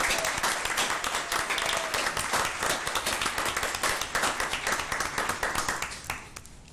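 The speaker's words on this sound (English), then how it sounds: "Big round of applause." Audience applause at a school board meeting, a dense steady roar of many hands clapping close and loud, thinning out in the final second.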